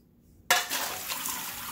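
Potato soup being dumped into a container, a sudden loud splash followed by a steady close pouring, sloshing rush of liquid, no talking.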